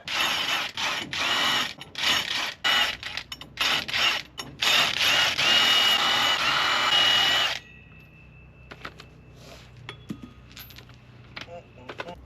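Lug nuts being loosened on the rear dually wheel of a first-generation Dodge pickup, heard as a run of loud, choppy ratcheting and clanking bursts for about seven seconds, then quieter scattered metallic clinks and taps.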